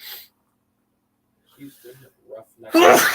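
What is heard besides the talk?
sneeze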